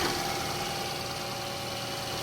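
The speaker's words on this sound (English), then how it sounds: "this is what the engine sounds like before the oil change" A 2002 Toyota RAV4 front-wheel-drive engine idles before its oil change, giving a steady, close, broadband hum and whir that stays even throughout, with no talking.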